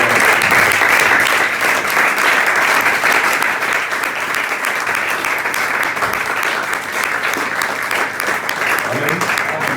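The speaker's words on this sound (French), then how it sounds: "nous allons maintenant acclamer la parole de Dieu" A church congregation bursts into sustained, loud applause, a dense, even wall of clapping that carries on without pause throughout.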